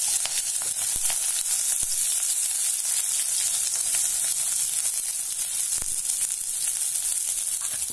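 Chopped onion, green chili, curry leaves and ginger-garlic paste sautéing in hot oil, a loud, dense, continuous sizzle with occasional faint stirring taps, close up and without speech.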